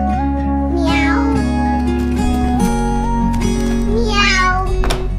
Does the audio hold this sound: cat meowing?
yes